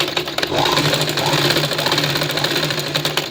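A sewing machine stitching fabric lining for invisible piping in tailoring work runs in a steady, loud, close mechanical whir with a fast repetitive chatter and no pauses.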